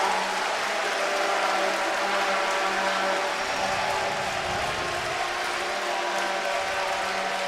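A large crowd at The International esports event gives Na'Vi a standing ovation, with dense, steady applause and cheering filling the arena throughout.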